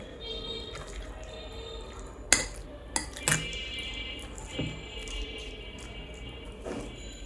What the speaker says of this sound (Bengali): এখন আমি ঢাকনা দিয়ে দিচ্ছি।